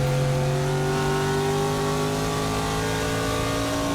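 A Trans Am TA2 race car at Sonoma holds third gear, its engine a loud, steady, close drone with strong harmonic hum and no shifts or pauses.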